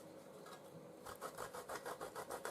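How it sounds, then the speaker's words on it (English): Beef is grated over the top of a pizza, giving quiet, rhythmic rasping strokes that start after a brief pause and repeat steadily and close by. "Grate some of your beef over the top, or you can grate cheese."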